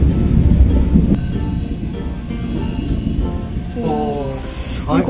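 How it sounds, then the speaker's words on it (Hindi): Thunder rolls loudly during a heavy night rainstorm, a deep rumbling crack over constant rain hiss, with a voice briefly speaking near the end. "बिजली कड़क रही है इतनी जबरदस्त"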